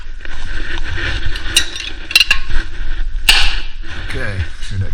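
A stuck disc brake rotor breaking free from its hub lets out a few sharp cracks and creaks amid low mechanical rumble, the loudest snap coming late and close by.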